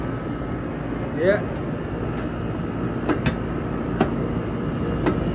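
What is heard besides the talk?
air conditioner compressor running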